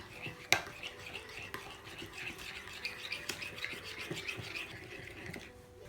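A spoon stirs yogurt, sugar, black pepper and salt in a bowl, making a soft, continuous scraping and clinking close by. A sharper clink comes early, and the mixing stays quiet throughout.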